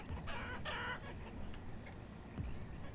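Clucking chickens in a farm pen in the town-building game Banished, a few quiet, close calls over low village ambience, one brief burst near the start and softer clucks after.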